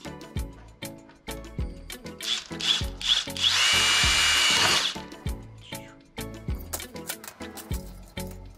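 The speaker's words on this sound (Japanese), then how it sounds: "電動ドリルで穴開けていきたいと思います。" An electric drill whines in several short bursts and then one longer sustained run as it bores a hole for a rivet, with rhythmic music playing throughout.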